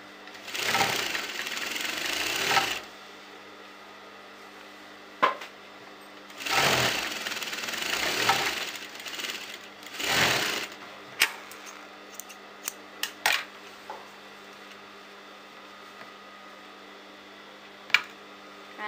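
A domestic sewing machine stitches a double seam along the crotch of a churidar, with three loud, steady whirring bursts of a few seconds each, followed by scattered clicks and small handling sounds.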